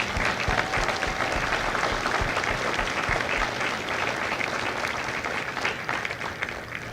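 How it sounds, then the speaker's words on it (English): Audience applause for family members at a Marine Corps recruit graduation at MCRD San Diego, a steady wash of many hands clapping throughout, loud and sustained without letting up. "let's give these family members a round of applause"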